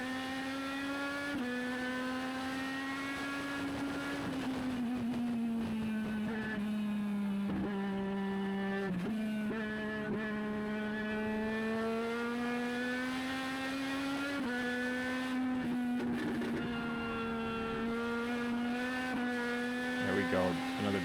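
A race car in a NELCAR Legends race at Thompson laps the track, its engine droning loud and steady throughout with rising and falling pitch as it shifts and accelerates, heard from close inside the car.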